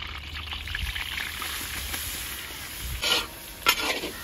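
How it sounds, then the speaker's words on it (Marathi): Garlic and green chilli paste sautéing in oil with cumin in a pan, a continuous close sizzle with stirring scrapes and two brief louder bursts near the end, no voices. "लसूण आणि हिरवी मिरचीचं वाटण व्यवस्थित परतून घेऊ"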